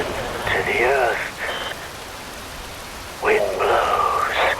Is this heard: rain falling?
yes